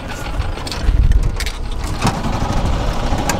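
A burnout car at a world-record attempt, its engine held near 4,500–5,000 RPM as the rear tire spins against the pavement, a loud continuous roar and rasp with a low-end surge early on.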